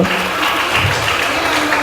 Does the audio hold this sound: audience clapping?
yes